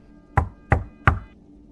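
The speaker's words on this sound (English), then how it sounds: "That is when I heard it. 3 slow, deliberate knocks." Three slow, evenly spaced knocks, heavy and deliberate, ring out close and loud against near silence, each with a brief resonant decay.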